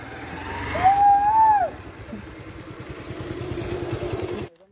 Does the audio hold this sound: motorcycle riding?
yes